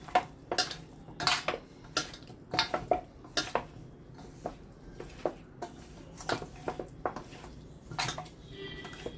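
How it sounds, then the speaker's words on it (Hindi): Marinated fish pieces being mixed carefully by hand in a metal bowl, giving a run of irregular clinks and scrapes against the bowl, close and moderately quiet with no talking. "और मछली भी टूटेगी नहीं हमारी। बहुत अच्छे से हम इसको भी मिक्स कर लेंगे केयरफुली"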